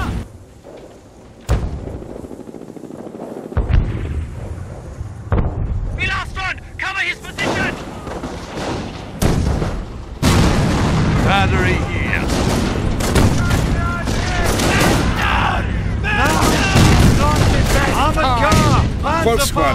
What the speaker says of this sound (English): Base is taking fire.